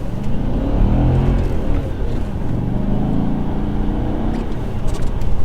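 An Audi S4 engine revving under acceleration inside the car, a loud close rumbling drone whose pitch rises and falls in smooth sweeps over steady road noise.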